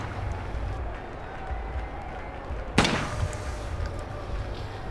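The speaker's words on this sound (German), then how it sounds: "Pro Liegend- und Stehenschießen stehen euch jeweils nur 5 Schuss zur Verfügung." A single sharp rifle crack rings out at a biathlon shooting range in the RTL Biathlon 2007 video game, standing out briefly over continuous crowd and ambient game noise.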